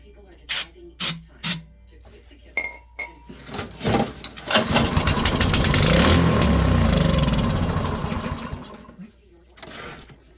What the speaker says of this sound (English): So if you couldn't tell, it just fired up